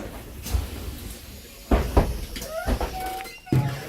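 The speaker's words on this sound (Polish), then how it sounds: "otworzę sobie wszystkie drzwi" Doors of a Mercedes Citaro bus opening: several pneumatic thumps and mechanical clunks in sequence with a brief rising whine, close by, with no speech.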